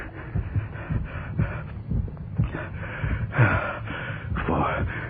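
Sound effect of a muffled, beating heart in a live radio theatre performance of a murder story, a steady low thumping rhythm that runs on in the background with some breathy noise over it.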